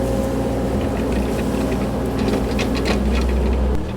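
Excavator working a trench for underground roof drains, a close, steady diesel engine rumble with a low drone and scattered clanks and scrapes of the bucket on soil, with no voices.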